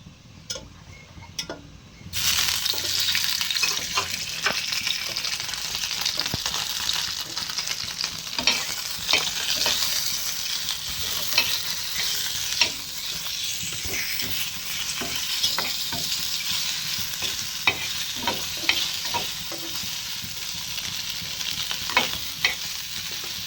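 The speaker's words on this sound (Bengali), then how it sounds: "এবার আমরা আপনাদের ভেজে দেখাচ্ছি আমাদের চিকেন বলগুলো কেমন হয়েছে খুব অল্প পরিমাণ তেল" Boiled chicken balls fry in a small amount of hot oil, a steady bright sizzle that starts abruptly after a quiet moment, with frequent ticking pops and scrapes of stirring throughout.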